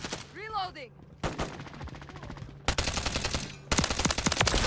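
Gunfire in the video game Call of Duty MW3, dense bursts of automatic fire that grow louder and more continuous, with a brief quieter stretch and faint voices.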